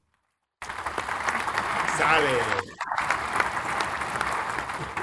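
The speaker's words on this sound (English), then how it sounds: "Let's get a round of applause for Black History Month." Audience applause for Black History Month, a brisk burst of crowd clapping that starts abruptly, dips briefly midway and carries on steadily, with a voice speaking over it.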